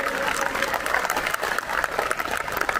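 Audience applause at an Ola factory customer day, a dense crowd clapping loudly and continuously across the short stretch.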